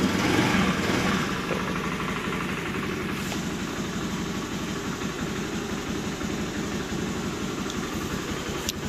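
A vehicle engine idles at a steady, even rumble throughout, close and continuous, with no voices over it.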